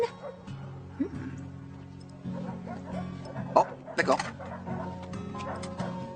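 A small dog yips and whimpers in short bursts indoors, with brief spoken dialogue and background music underneath.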